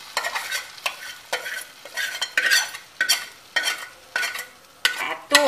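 A spice tempering for a fennel and pointed gourd curry sizzles loudly in hot oil, with repeated bursts of stirring and frying roughly every half second, close and alone.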